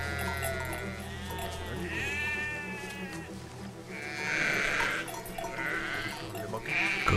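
Sheep bleating in the video game Valiant Hearts, several wavering bleats spread across the stretch over a steady game background, fairly close and moderately loud.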